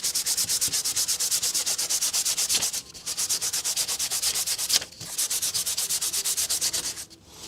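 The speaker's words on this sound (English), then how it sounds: "Some guy sanding the back of a piece of paper." Rapid, rhythmic scratching of sandpaper rubbed back and forth over the back of a sheet of paper, close and loud, pausing briefly twice before resuming.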